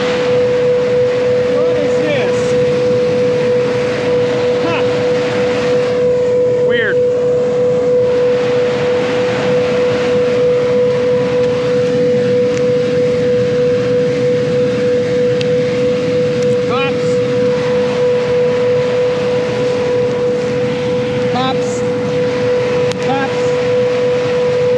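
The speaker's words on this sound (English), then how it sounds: "Picking peanuts, putting them in the nut buggy, putting them in semis." A peanut picker harvests a field, giving a loud, unbroken mechanical drone with a strong sustained hum that holds steady throughout.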